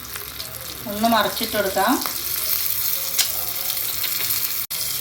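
Green chillies fry in oil over a low flame for a spiced chilli dish, giving a steady, close sizzle with brief stirring; someone speaks over it for a moment partway through.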